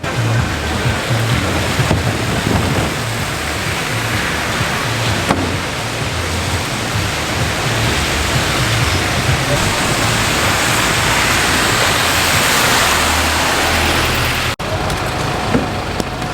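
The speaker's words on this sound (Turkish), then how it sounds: "Aslında alışkın olduğum şekilde yağmurlu bir havada çekim yapmaya çalışıyorum." Steady rain hissing across a London street, a dense broadband wash with low rumbling traffic underneath, continuous and fairly loud throughout.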